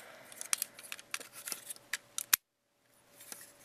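Small plastic clicks from a Transformers Premium Series Jazz deluxe toy as the backpack flips down and the plates snap into place, a quick run of close, sharp ticks ending in one louder snap, then near silence.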